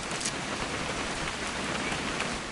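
Steady rain falling in the What Remains of Edith Finch video game, a dense, even hiss of drops with no breaks, heard alone with no voices.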